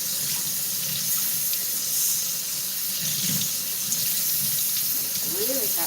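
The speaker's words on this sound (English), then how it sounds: "I need to wet this with hot water." Hot water streams steadily from a kitchen tap into a sink while batch cooking, a continuous broad hiss with faint voices and clatter underneath throughout.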